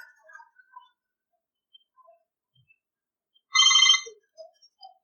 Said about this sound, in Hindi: प्रोफाइल के अंदर वाइब्रेशन को चेक कर लेते हैं।